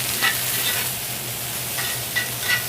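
Tofu and vegetables sizzling in a stir-fry pan, a steady frying hiss close by with occasional scraping stirs and spatula clicks.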